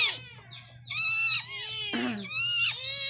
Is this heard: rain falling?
no